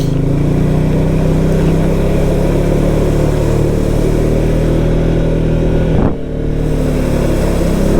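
A 2023 Can-Am Outlander 700 XT ATV engine drones loudly and continuously while riding, a close, heavy rumble with a brief dip and shift in pitch partway through.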